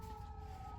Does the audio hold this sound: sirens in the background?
yes